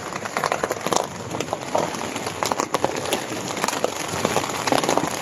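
Heavy rain from a storm pours steadily on a campsite, a dense hiss with scattered drips and splashes on surfaces, continuous throughout.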